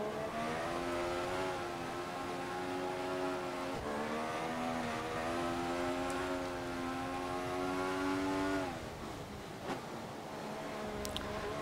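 A Formula One car roars through a qualifying lap at the Brazil circuit in F1 2014, the engine holding a steady high whine with dips at gear changes, loud and continuous.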